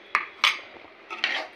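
Upma semolina being stirred in a pan, a few sharp metallic clinks and scrapes of a spoon against the pan in quick bursts, close and clear with quiet gaps between.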